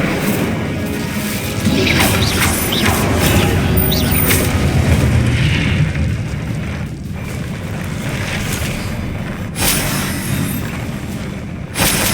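Fiery Incendio spell blast in Hogwarts Legacy, a dense roaring burst that swells and rumbles steadily for several seconds amid game combat noise, with a brief sharper flare near the end.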